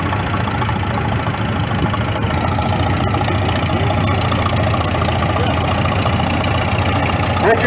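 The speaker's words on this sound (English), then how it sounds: "1952 Ford Model 8N, 23 horsepower, Jeremy Weiss from Calcutta." A 1952 Ford Model 8N 23-horsepower tractor engine runs steadily at an old engine show parade, a continuous low rumbling drone with mechanical knocking, loud and unbroken, with an announcer's voice over it.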